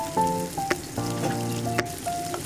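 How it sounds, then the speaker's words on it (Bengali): Garlic frying in hot oil in a pan, in oil already used to fry dried red chillies, giving a steady close sizzle with a few brief crackles and no talking. "আমি ওই তেলের মধ্যেই রসুনটাকে ভেজে নিচ্ছি"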